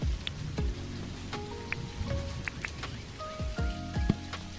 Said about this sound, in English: Nugget doesn't like the rain.